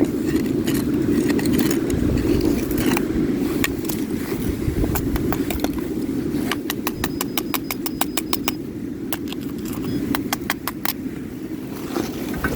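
Under steady low rumble at a beach, a metal detector passing over a crushed can sends out bursts of rapid, crackly clicking pulses, stuttering in irregular clusters rather than a clean tone.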